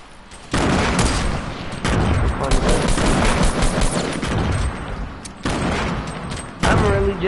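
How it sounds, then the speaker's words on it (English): Dense bursts of video game gunfire during a multiplayer match, with rapid overlapping shots and automatic fire rattling continuously, punctuated by louder volleys and explosive booms. "I'm really just like listening to gunfire and you don't know where anyone is at."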